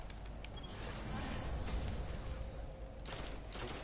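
Gunfire in the Destiny: The Taken King shooter game, rapid bursts of shots over a dense background of in-game noise, fairly faint, with a steady hum running underneath.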